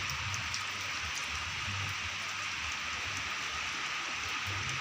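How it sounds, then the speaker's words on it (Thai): Heavy rain pours outside a house, a dense constant hiss of falling water with a low rumble underneath, steady and unbroken throughout. "อยู่เฮือนเนาะฝนตกเด้พี่น้องเอ้ย"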